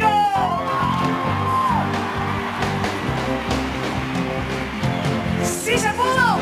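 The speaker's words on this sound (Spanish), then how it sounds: "el aplauso más bonito de toda la noche" Concert crowd at a show in Mexico roaring with whoops, yells and cheering under dense music, loud and sustained throughout with shrill whistles rising near the end.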